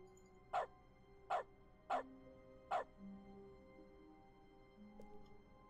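A dog in The Stanley Parable's Dog mode gives four evenly spaced, sharp barks, close and clear over a quiet background hum, followed by faint low tones.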